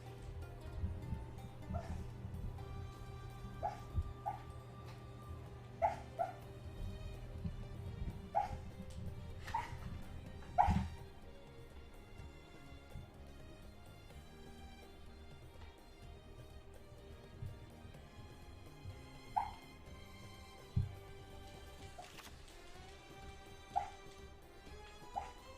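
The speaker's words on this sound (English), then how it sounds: "you guys hear my dog dreaming?" A dog dreaming in a quiet room gives faint high whimpers and soft muffled yips at scattered moments, with a low steady hum and some game sounds playing in the background.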